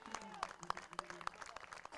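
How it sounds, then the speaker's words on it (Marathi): Applause at a cricket match in the Virar Premier League 2024 for a batsman's fifty: steady clapping from a crowd with sharper individual claps poking through, running throughout under a lively outdoor murmur. "जोरदार टाळ्या होऊन जाऊ द्या"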